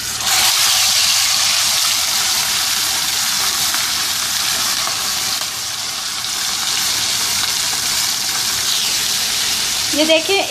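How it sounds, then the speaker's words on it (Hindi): Chicken chargha fried in very hot oil, a loud, continuous sizzle and crackle that holds steady throughout, close up, with no talking over it. "तेज़ गरम ऑयल में इस चिकन को डालेंगे"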